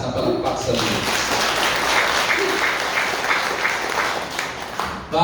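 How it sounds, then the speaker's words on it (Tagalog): Loud, sustained applause from a church congregation praising God, a thick continuous roar of clapping that fills the room and stays strong throughout. "Isang malakas na palakpak sa Diyos."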